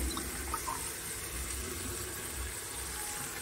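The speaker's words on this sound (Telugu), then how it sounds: "ఇప్పుడు కొబ్బరి పాలు అనేది యాడ్ చేసేసుకుందాం" Coconut milk pours into a cooking pot with a soft, steady liquid rush that stays even and fairly quiet throughout.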